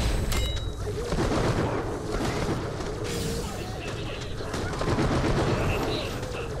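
Rapid bursts of automatic gunfire and booming shots in the video game Borderlands: The Pre-Sequel, loud and continuous through a chaotic firefight with voices talking over it.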